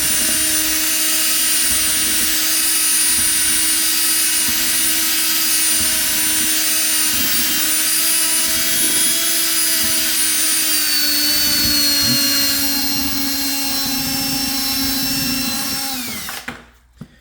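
A loud drill motor runs steadily for a long stretch mixing a skim/seal coat slurry, with a constant droning whine, then winds down abruptly at the end.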